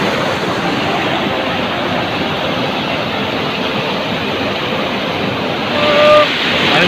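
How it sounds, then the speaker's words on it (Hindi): The Neelum River rushing just below the bank, a loud, steady broadband roar of flowing water running the whole time, with a brief faint chirp near the end. "मौजूद है पानी हमसे बस चंद इंच नीचे पास से वो बह रहा है"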